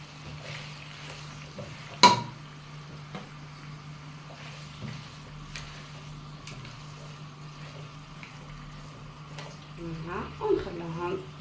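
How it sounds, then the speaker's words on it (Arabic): Sliced onions, three large ones, frying with meat in a pan for a bean dish with onion and tomato: a steady low sizzle and bubbling, a sharp clink of a utensil early on, with someone talking over it. "البصل تاعنا راه تقلى مليح مع اللحم"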